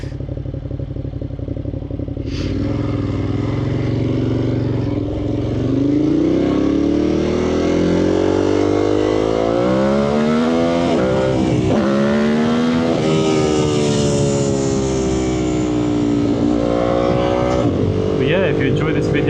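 A Ducati Monster 1200 S motorcycle being ridden, its engine droning loud and close as revs rise and fall through several gear changes, with wind noise over the top and no voices.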